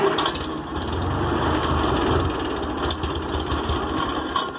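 An old homestead tractor engine, started cold, runs with a steady rough idle and low mechanical rumble, loud and close throughout, with no talking.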